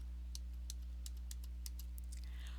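Number keys tapped on a computer keyboard, a string of quiet, sharp clicks in an irregular rhythm over a steady low electrical hum, with no talking.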